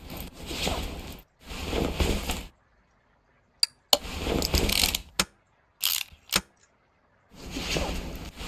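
Mechanical clicks and ratcheting of a starter motor being installed in Car Mechanic Simulator 2018, in a few separate bursts with short gaps and silent pauses between them.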